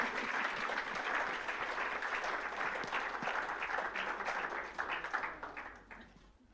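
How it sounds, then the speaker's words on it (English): Audience applause at an awards ceremony celebrating civil society, a sustained crowd of clapping hands, fairly distant and even, tapering off in the final seconds. "And I think another round of applause, I think, will be necessary here"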